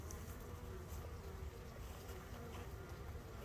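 Honey bees at a hive, mostly calm nurse bees, give off a continuous soft buzzing hum that holds steady and fairly faint throughout, with no speech over it.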